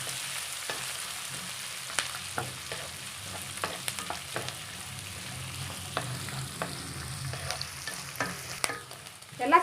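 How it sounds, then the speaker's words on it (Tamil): Green chillies and curry leaves sauté in hot oil with a steady background sizzle, punctuated by occasional scraping stirs of a spoon in the pan, close and moderately loud with no talking. "எல்லாம் சேர்ந்து நல்லா எண்ணெயில் வதங்கிடுச்சுங்க."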